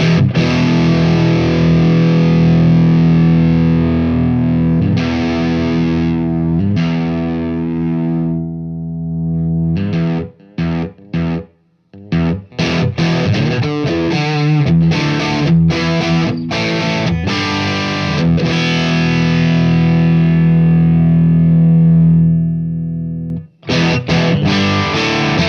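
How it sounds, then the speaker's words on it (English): Heavily distorted electric guitar chords ring through a pedal as a sag control on the pedal power supply starves its voltage, sounding loud and sustained with a few brief silent gaps between strums. "let's go ahead and kill some of that voltage and see what the sound does."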